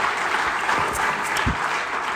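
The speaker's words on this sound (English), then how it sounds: "Can we have one more round of applause for Tonya, please?" Audience applause at a State of the State address by an Illinois state representative, a dense, steady burst of clapping from a crowd that runs throughout.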